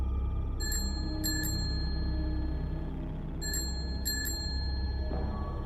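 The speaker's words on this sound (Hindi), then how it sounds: "उसी क्षण बाहर से फिर वही साइकिल की घंटी सुनाई दी।" A bicycle bell rings in double dings, two pairs early and two pairs later, bright and clear over a low steady background hum.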